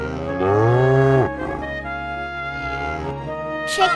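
A cow lets out a single long, low moo up close, loud at first and then trailing off, over soft background music with no voices.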